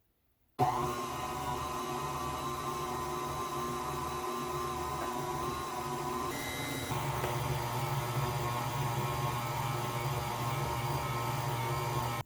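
A stand mixer churns cinnamon roll dough at medium speed, starting abruptly and then holding a loud, steady motor whir and hum close by, with the pitch shifting slightly midway as it keeps running.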